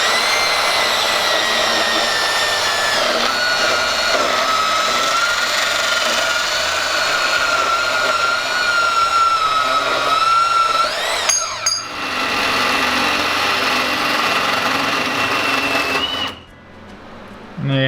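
Power tool cutting a notch into a Ford Mustang suspension part, a loud steady whine with shifting pitch that runs for about sixteen seconds before cutting off abruptly near the end.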